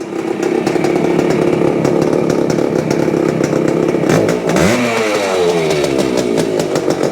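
A small Yamaha CT-3 motorcycle engine fires up and runs with a loud, buzzy two-stroke rattle close by, then its pitch sweeps down and settles into a lower, uneven idle.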